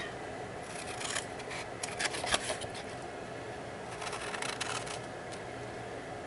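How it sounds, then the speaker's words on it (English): Large scissors cut through paper for a box in a series of close, crisp snips and rustles, some sharper strokes standing out, with no talk. "let's go ahead and just cut down these. Get out my bigger scissors."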